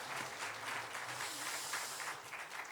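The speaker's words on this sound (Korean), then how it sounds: "다시 한번 힘차게 한번 박수를 쳤으면 좋겠습니다." A church congregation claps at a New Year's Eve service, a dense, even wash of applause that holds steady for a few seconds at moderate distance.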